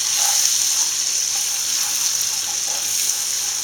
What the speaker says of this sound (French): on ajoute le beurre demi-sel et on fait fondre le beurre